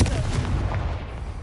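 A Confringo blasting spell goes off in a video game as a loud, booming burst with a deep rumbling tail that fades over about a second.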